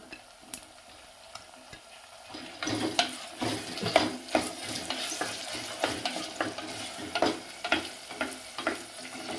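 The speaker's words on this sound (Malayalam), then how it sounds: "ഇതിലേക്ക് തക്കാളി ചേർത്ത് കൊടുക്കുക ഒരു തക്കാളി" Tomato goes into sautéing vegetables for vegetable pulao, starting with quiet background then settling into a close, crackling fry broken by repeated stirring scrapes and taps of a spoon against the pan.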